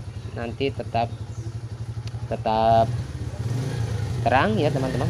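Motorcycle engine revved repeatedly at low RPM, a steady mid-pitched idle rising in short throttle blips beneath someone talking close by.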